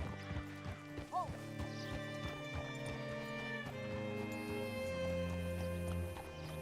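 Horse hooves clip-clop softly in the Red Dead Redemption 2 epilogue, faint irregular steps under a sustained music score with a brief whinny-like sound.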